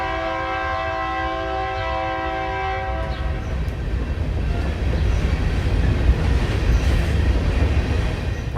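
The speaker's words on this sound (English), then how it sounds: "Here comes our Union Pacific train." A Union Pacific train passing on open prairie, its horn sounding loud and sustained for a few seconds before giving way to a rising, rumbling roar and rattling wagons as it rolls close by.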